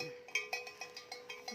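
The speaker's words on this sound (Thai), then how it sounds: "ตัวนี้เสียงดังมากกระหลง" Metallic buffalo neck bell clanks repeat at a steady, fairly quick rhythm, about every fifth of a second, faint and somewhat distant, with no talking.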